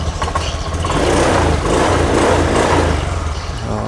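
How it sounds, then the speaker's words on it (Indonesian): A Honda Beat motor scooter with a starting fault runs steadily just after being started, its small engine idling with a busy, even putter close by, alone without voices. "Nah, motornya hidup."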